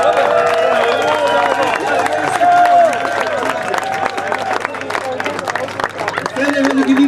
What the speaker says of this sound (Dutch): Heel warm en heel hard applaus voor iedereen die dat mogelijk heeft gemaakt.